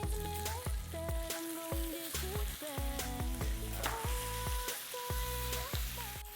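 Kimchi fries in a pan for kimchi fried noodles, giving a continuous close sizzle broken by repeated clattering stirs and pops, with background music playing.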